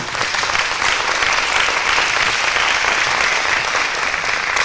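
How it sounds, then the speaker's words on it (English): Audience at a candidate forum applauding eleven candidates, a loud, dense and continuous round of clapping from a large crowd, unbroken throughout. "Ladies and gentlemen, please give a round of applause for our 11 candidates."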